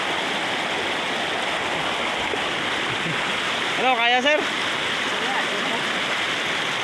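Strong current of a flooded creek rushing steadily throughout, a loud continuous broadband flow close by; a voice speaks briefly partway through over the water.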